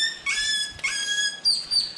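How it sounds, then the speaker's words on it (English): Great-tailed grackles call on an island in Belize, giving three bursts of sharp, high whistling and chirping notes, clear and fairly close, with no voices. "So, so those birds that you hear, they are the great-tailed grackles."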